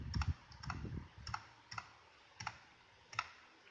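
A steady series of sharp key clicks from an NYK K-06 TKL gaming keyboard, roughly one every half second, close and fairly quiet with a soft low thump under each press.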